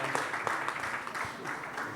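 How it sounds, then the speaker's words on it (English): Audience applause at a film event, a steady wash of clapping from a crowd, moderately loud and sustained without a break. "we need to give him a round of applause"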